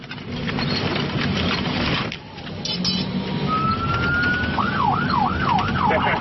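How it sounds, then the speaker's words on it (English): Convoy vehicle sirens in Iraq wail over steady road noise, a long rising tone giving way to a fast, repeated warbling yelp, loud and close. "The sirens warn Iraqi drivers to steer clear"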